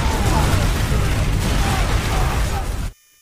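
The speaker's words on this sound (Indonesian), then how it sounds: "sebuah dinamit meledak tepat di gubuk itu yang membuat musuh panik" Dynamite blows up at a hut during a Malay independence-fighters war film: a loud, sustained roar of blast and rumble fills the scene for about three seconds before cutting to silence.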